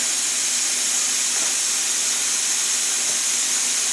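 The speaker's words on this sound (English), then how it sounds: "My pressure cooker came up to pressure, that's what that hissing sound is" A kitchen pressure cooker at full pressure lets out a steady, loud, continuous hiss of escaping steam, unbroken and close for the whole stretch.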